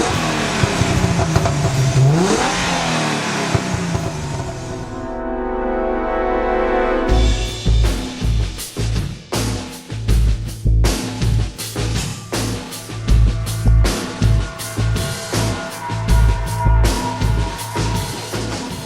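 A 303-horsepower 3.8-litre Hyundai Genesis Coupe drives hard, its engine revving and then pulling through repeated surging bursts of acceleration, loud and close from inside the car.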